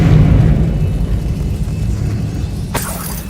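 A Confringo fire spell blasting through a barrier in Hogwarts Legacy, a loud, low, rumbling blast with a sharp cracking burst near the end.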